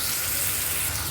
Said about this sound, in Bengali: দিয়ে আমি কিছুক্ষণ পেঁয়াজগুলোকে ভেজে নেব।